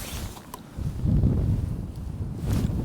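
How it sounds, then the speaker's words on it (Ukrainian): Wind gusts across open ice on a winter fishing trip, a close, uneven roar with mic buffeting and a couple of faint knocks. "Та мені здається, що це вітер просто, що це просто вітруган"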